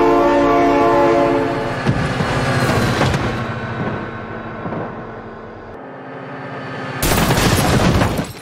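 A train passes close by, a loud rumble with a horn-like tone, swelling again toward the end after a brief lull.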